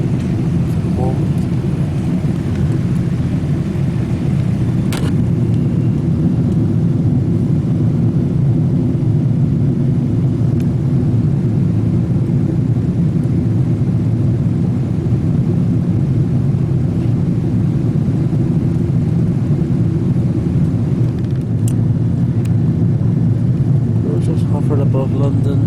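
Airliner circling above London while waiting to land, heard from inside the cabin as a constant deep engine rumble and airflow roar with people talking over it.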